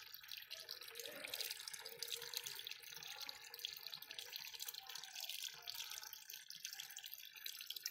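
A faint, steady hiss of water pouring and splashing into the drum of an LG fully automatic washing machine, continuous and even throughout with no voices.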